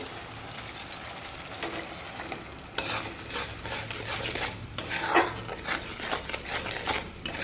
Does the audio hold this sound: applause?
no